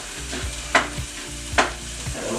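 Meat sizzles in a pan with olive oil for spaghetti sauce, a constant frying hiss punctuated by two sharp scraping stirs, close and without speech.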